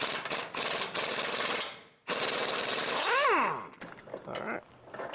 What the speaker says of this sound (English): There's the wrench for the backside.